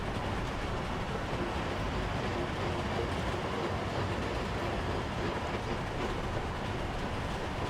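A train rolls past a depot in the MegaCity 19 video game, a dense continuous rumble with rhythmic clatter that stays loud and steady throughout, with no voices.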